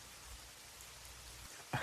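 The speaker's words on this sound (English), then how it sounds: "It was raining out there." Rain falling outdoors at night, a soft, even hiss of drops on surfaces that stays faint and continuous, with a brief louder bump right at the end.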